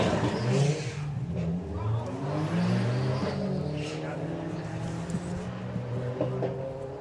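Drag race cars, a VW Lupo and an Audi, rev and roar loudly at a Santa Pod drag strip, their engines droning steadily with shifting pitch throughout, while a commentator talks over the din.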